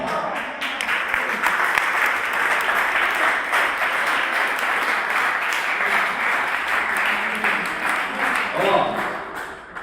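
Church congregation at an evangelical service in Benevento, Italy, applauding and cheering with a bishop present; steady, dense clapping and crowd noise fills the whole stretch, loud and sustained with voices mixed in.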